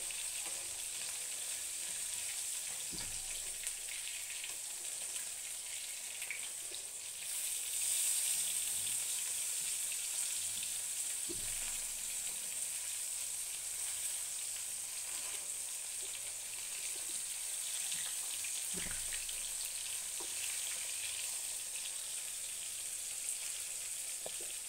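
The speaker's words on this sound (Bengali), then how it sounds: "মাছগুলোকে এখন আমি উল্টে দিচ্ছি, এক পিঠ ভাজা হয়ে গেছে।" Fish frying in a pan after being turned, one side already browned, gives off a steady, close hiss and crackle of hot oil that runs unbroken for the whole stretch, with a few faint stirring clicks and no voices.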